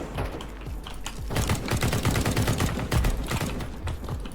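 Gunfire in Counter-Strike 2, rapid bursts of automatic shots rattling in quick succession, loud and close, building into near-continuous firing after a sparser start.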